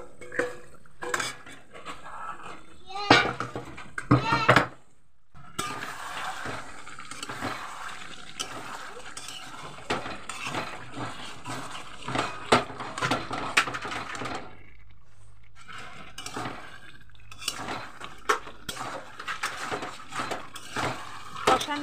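Chicken cooking in spices in a covered pan on a gas stove turned to simmer, heard as repeated clattering of a utensil and lid against the pan, loud and close, with brief quiet gaps and a faint sizzle beneath.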